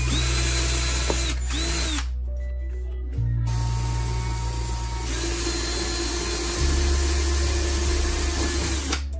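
A power drill with a 1/2-inch bit whirs steadily at close range boring a 1/2-inch wooden dowel, its motor pitch shifting as the bit bites and bores, with no voices.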